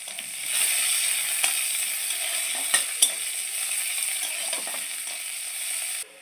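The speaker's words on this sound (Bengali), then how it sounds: "এবার কেটে রাখা পেঁয়াজ দিয়ে দেবো।" Chopped onions sizzle steadily in hot oil in a wok, over spices and dried chili, while a Bengali telakucha greens chorchori is being cooked; a dense, close hiss continues with a couple of sharp utensil clicks and no talking.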